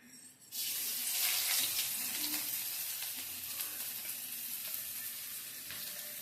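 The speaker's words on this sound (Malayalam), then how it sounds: "നെയ്യ് ചൂടായതിനു ശേഷം നമുക്ക് ഇഞ്ചിയും വെളുത്തുള്ളി അതിനകത്തോട്ട് ഇടാം." Ginger and garlic drop into hot ghee and burst into a loud, close sizzle that starts abruptly and hisses steadily, easing slightly as it continues.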